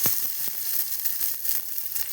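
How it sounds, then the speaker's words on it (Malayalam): Mustard seeds and onion fry in hot coconut oil for a Kerala curry, a steady close sizzle with a few sharp pops and crackles at the start, no voices. "ആദ്യം തന്നെ കടുക് പൊട്ടിച്ച് വെളിച്ചെണ്ണ ഇട്ട് സവോള ഇട്ട് വഴറ്റുക"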